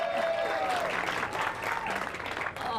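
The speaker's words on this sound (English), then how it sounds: "The crowd applauses in appreciation." A crowd at the Punta Gorda Open pickleball tournament claps steadily in appreciation after a point, with commentators talking over the applause.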